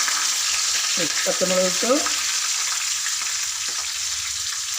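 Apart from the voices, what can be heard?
curry leaves, fenugreek and mustard seeds sizzling in hot coconut oil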